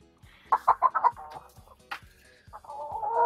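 Hens cluck close by in a homemade henhouse, a quick run of rhythmic clucks followed by a sharper call and a longer drawn-out note, with no talking.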